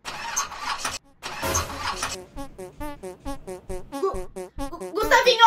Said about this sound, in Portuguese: tô tentando ligar o carro